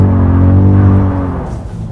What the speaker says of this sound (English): Heard a little bit of pre-ignition.